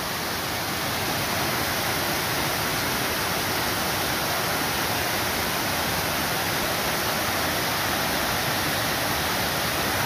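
Storm runoff rushing down off hills and mountains on a trail, a steady, loud broadband roar of fast-flowing water that holds constant and close throughout, with no voices.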